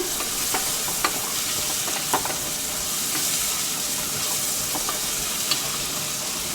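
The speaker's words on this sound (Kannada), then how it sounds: "ಇದನ್ನು ಒಂದು 2 ನಿಮಿಷ ಚೆನ್ನಾಗಿ ಫ್ರೈ ಮಾಡ್ಕೊಳ್ಳೋಣ" Coriander leaves fry in hot oil in a pan for Bagara rice, giving a steady, close sizzle with light periodic scrapes and taps from a spoon stirring, and no talking.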